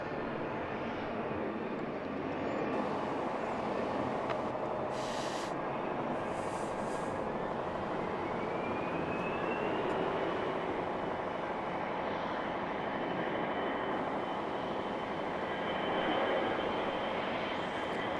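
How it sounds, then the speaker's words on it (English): An Air Canada Express Embraer 175 jet operated by Jazz Aviation approaches the airport, its engine roar a steady wash with a slowly rising whine, heard at a distance over continuous ambient noise. "Coming in from Montreal in Embraer 175, operated by Jazz Aviation."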